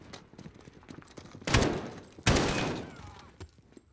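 Gunfire in Call of Duty Modern Warfare: two loud, sharp bursts about a second apart, each ringing out with a long decaying tail, over a quieter backdrop of scattered distant shots and game ambience.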